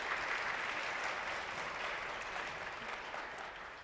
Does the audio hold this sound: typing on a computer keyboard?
no